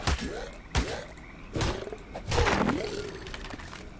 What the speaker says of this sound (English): Excuse me, Mr. Frog?